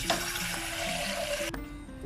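Tap water runs into a vinegar solution prepared for soaking a kitchen stove burner, a soft steady splash that cuts off abruptly near the end, quiet and close.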